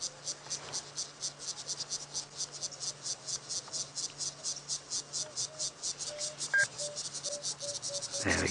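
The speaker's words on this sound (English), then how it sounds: "probably a species of cicada actually" A cricket or cicada chirps steadily at sunset during a safari drive, giving rapid evenly spaced pulses that repeat throughout, with faint background hum and a brief sharp knock near the end.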